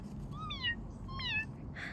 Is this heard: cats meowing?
yes